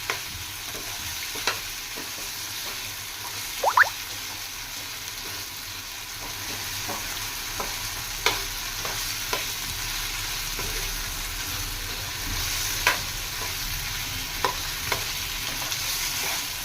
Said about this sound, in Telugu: చూడండి ఫ్రెండ్స్, చికెన్ బాగా ఫ్రై చేసుకోవాలా.